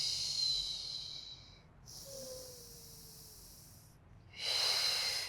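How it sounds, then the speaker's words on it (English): Two forceful breathy exhalations from a person doing a beginner Pilates chest workout, the second stronger, with a quieter breath in between and soft hiss throughout. "We exhale, close."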